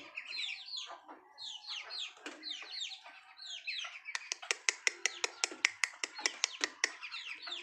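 A group of hens clucks busily and continuously nearby, and a rapid series of sharp clicks and pecks grows more prominent in the second half.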